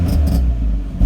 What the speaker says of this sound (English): Can't expect it to run like a standard engine. It's going to be a little bit lumpy